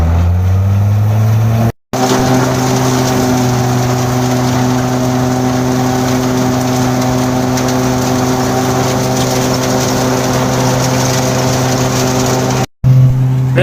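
A tractor engine drones loud and steady close by while a trolley is hauled during a peanut harvest in a Punjab village, the note holding constant apart from two brief dropouts.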